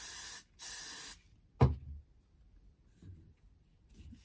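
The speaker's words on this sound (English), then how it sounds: "And then a spray." Two short, loud hissing bursts of an aerosol spray can, followed by a soft thump and faint rustling in an otherwise quiet room.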